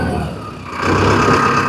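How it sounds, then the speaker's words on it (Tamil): A Mahindra Arjun Novo 605 DI tractor engine idles in neutral, its steady diesel rumble swelling louder partway through and holding close and continuous. "இன்ஜின் சவுண்டு பாருங்கள்."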